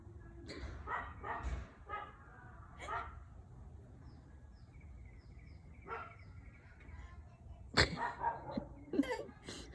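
A puppy barks and yips in short bursts, with a few sharper, louder yaps near the end, while people talk softly nearby in a home setting.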